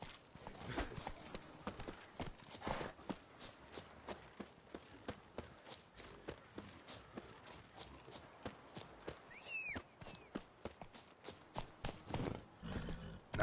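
Geralt's horse Roach gallops in The Witcher video game, a quiet, steady run of rhythmic hoofbeats with a brief whinny partway through and no voices.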